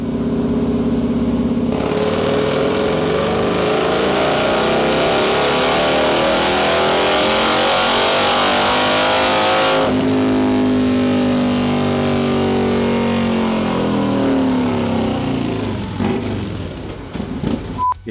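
A Harley-Davidson fitted with an MHP 131 engine running on a dyno, a loud, steady roar that holds for most of the time with shifting pitch and eases off near the end, with no talk.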